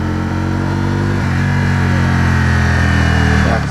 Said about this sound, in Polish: Odwijamy manetkę i posłuchajmy jak się zbiera.